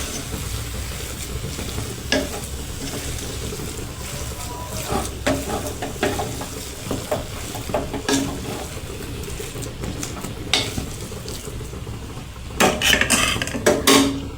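A spoon stirs and mashes potatoes in a pan with rhythmic metallic scrapes and clinks over a light sizzle. The sound is close and loud, with a burst of sharper clatter near the end.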